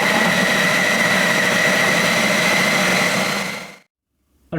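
A blender runs at high speed mixing chicken with olive oil, a loud steady whirring drone that holds for nearly four seconds, then cuts off abruptly into silence before a brief sound returns at the very end.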